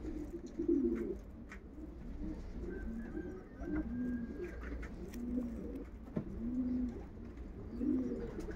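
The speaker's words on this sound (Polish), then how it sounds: "moje najlepsze gołębie rozpłodowe" Soft, low coos of breeding pigeons repeat at a relaxed pace, several birds murmuring close by in a quiet space with faint rustles.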